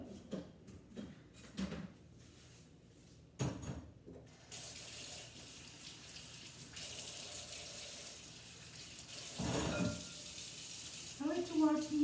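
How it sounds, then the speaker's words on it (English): Water runs into a kitchen sink during vegetable washing, a steady rushing stream that starts after a few soft clatters and knocks and continues at moderate level with splashy bursts near the end. "So this definitely needs to be washed. So I'm going to go to the sink."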